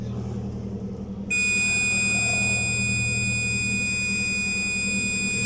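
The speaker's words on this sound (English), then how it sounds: "It started again beep." An alarm beeps during a test of a thermal heat-detection switch, a steady high electronic tone that cuts in after a second of low hum and holds unbroken over a background drone.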